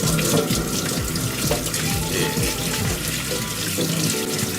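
Tap water runs steadily and loudly into a kitchen sink while burdock root is rinsed under the stream, with a continuous splashing rush and no talking.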